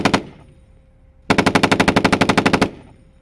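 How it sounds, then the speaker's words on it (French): Tank machine guns fire, a short opening burst and then a rapid, even burst of about fifteen loud, close shots lasting over a second, with echo trailing off. "il y a des mitraillettes pour canarder tout autour"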